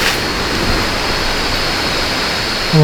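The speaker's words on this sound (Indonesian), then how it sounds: "Di bawah ini ada aliran air." Water from a stream in a Kalimantan forest flows steadily as a broad, even hiss, loud and close, alone for nearly three seconds and ending in a short tonal sound.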